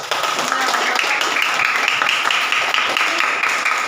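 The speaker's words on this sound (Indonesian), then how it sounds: "Beri tepuk tangan anak-anak" Schoolchildren in a classroom clap together for a group's answer, producing a dense, steady patter of many small hands that fills the whole stretch without pause.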